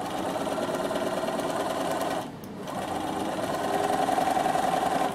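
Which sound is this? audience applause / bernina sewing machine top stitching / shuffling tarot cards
bernina sewing machine top stitching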